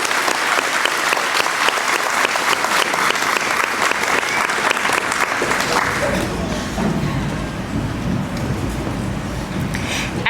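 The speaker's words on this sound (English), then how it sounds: "Let's give one more round of applause for all of our honor students." A graduation crowd gives a sustained round of applause for honor students at the 2025 Oak Grove ceremony, dense clapping that fills the hall before thinning after about six seconds into scattered claps and crowd murmur.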